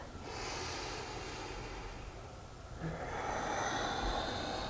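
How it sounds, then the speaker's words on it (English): A person breathes slowly through the nose during a gentle pajama-themed stretching routine, one long audible inhale followed by a longer airy exhale, close and soft with no talking. "Nice and easy, inhale and exhale."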